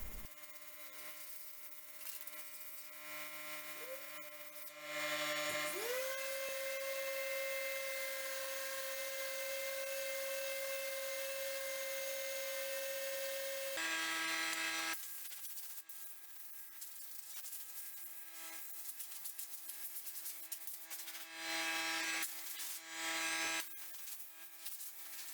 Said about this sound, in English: we begin sanding the surface using 100 grit sandpaper